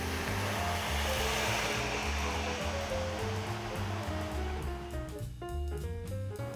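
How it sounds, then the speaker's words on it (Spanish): Two litres of purified water pour steadily into a cooking pot already holding cinnamon sticks, cloves and anise for calabaza en tacha, a continuous rushing splash that stays loud throughout and thins out toward the end. "Voy a incorporar 2 litros de agua purificada."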